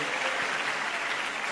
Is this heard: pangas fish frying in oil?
no